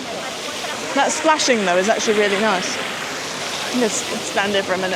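Water splashes in a public fountain in Rome as a steady rushing hiss, while someone speaks over it and other voices chatter nearby.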